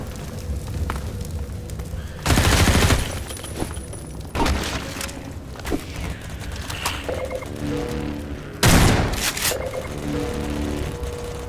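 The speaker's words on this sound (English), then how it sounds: "I hear those turrets going over." Turrets fire in the video game Half-Life 2, with bursts of loud gunfire and booms over a dense game soundscape of music and effects, two strong blasts standing out among scattered clanks and impacts.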